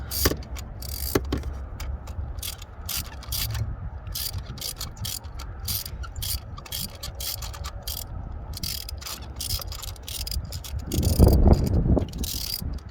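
Ratchet wrench backing an old spark plug out of an engine, rapid clicking ratchet strokes in bursts, fairly close and clear, with a louder clattering spell near the end.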